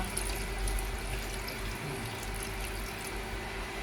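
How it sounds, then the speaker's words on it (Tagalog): Water runs steadily from a tap into a cooking pot, a continuous soft rushing pour, fairly quiet and close. "Pagkag-isa, maglagay ng tubig."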